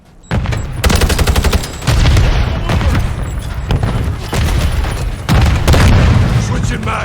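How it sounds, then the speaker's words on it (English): Dense, loud gunfire in a Modern Warfare 3 multiplayer match: rapid automatic bursts and heavy booms fill the whole stretch, with brief pauses and game radio chatter mixed underneath. "I'm taking fire."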